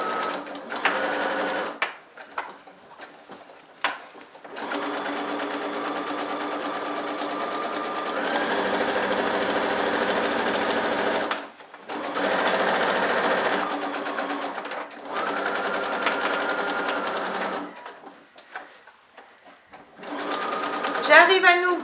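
A sewing machine stitches fabric for a bread basket in repeated runs of a few seconds each, separated by pauses where someone speaks about turning the fabric and lowering the presser foot.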